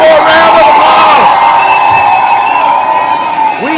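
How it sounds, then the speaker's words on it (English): Loud crowd at a political rally cheering, whooping and shouting continuously, with some clapping mixed in and voices rising above the roar throughout. "let's one more round of applause."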